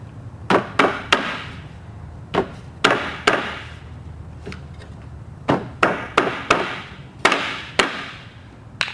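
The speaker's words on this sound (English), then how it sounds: "those you tap into these holes" Pins are tapped into the holes of a wooden sandbox kit, with sharp close knocks in small clusters of two or three and brief pauses between groups.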